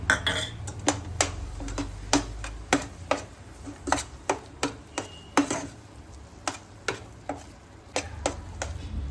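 Garam masala being stirred into a mixture in a pan for a crispy sandwich filling, a steady run of sharp spoon clinks and scrapes against the metal, close and distinct, with no talk.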